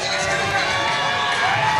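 Crowd at a Total Fight Challenge event roars and chants continuously, a dense, steady wash of many voices filling the arena without a break.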